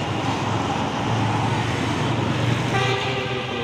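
Heavy road vehicle engine at Purabaya (Bungurasih) bus terminal, a continuous loud roar that rises into a strained droning tone as a bus pulls away fast, amid busy traffic noise.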